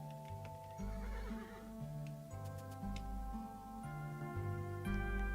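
Horse whinnies and clip-clopping hooves from the indie RPG Manafinder, a couple of neighs over a steady hoof rhythm, with looping game music underneath and no talking.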